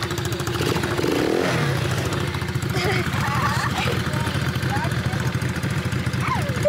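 A small motor on a kids' ride-on vehicle runs with a loud, steady mid-pitched buzz and some rattling clatter, people talking over it throughout.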